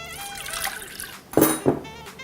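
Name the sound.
pouring water into a saucepan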